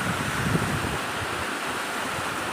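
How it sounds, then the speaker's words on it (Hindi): Waterfall at a disaster site in India: a continuous, dense rushing roar of falling water, fairly loud and steady throughout, with no voices. "और ये सुंदर वाटरफॉल यहाँ पर"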